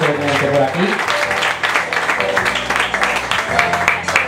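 Audience applause at a singing contest gala as a jury member is introduced, dense clapping mixed with music and voices throughout.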